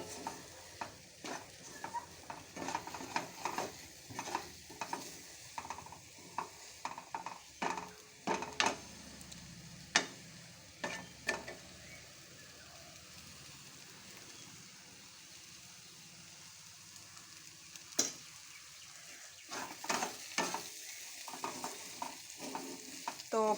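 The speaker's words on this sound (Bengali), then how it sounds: "এই যে এরকম করে শুকনো করে একটু নেড়ে নেব।" Dry chillies, four fresh green and two dried red, are stirred in a hot pan: a spatula scrapes in irregular strokes over a soft sizzle, close and moderately loud throughout.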